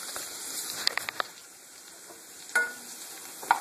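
Green beans with salt get stirred in a frying pan: a steady soft sizzle runs throughout, broken by a few sharp scrapes and clinks of the utensil against the pan.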